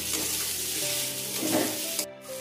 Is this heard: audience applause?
no